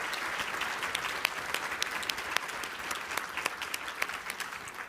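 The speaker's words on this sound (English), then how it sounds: "If I can ask for a big round of applause for our panelists who've done a great job today." Audience applause for the panelists at an agri-food conference session, dense, steady clapping from a sizable crowd, moderately loud and sustained throughout, with no speech over it.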